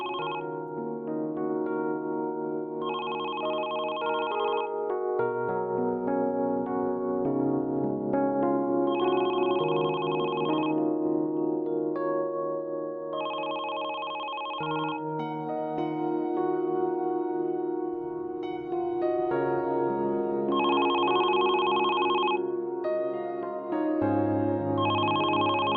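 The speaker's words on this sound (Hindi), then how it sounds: "फोन बज रहा है।" A telephone rings in repeated bursts over a background of music, the ringing recurring several times throughout.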